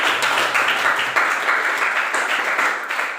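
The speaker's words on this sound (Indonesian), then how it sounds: "Tepuk tangan." Classroom applause for a student group after their presentation, a steady, dense patter of many hands clapping at once, fairly close and even in loudness throughout, with no voices standing out.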